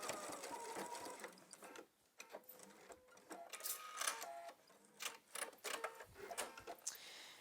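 A sewing machine runs in quick stitching bursts with brief pauses, tacking elastic in place 1/4 inch from the edge of a waistband; close and moderately loud, no talking.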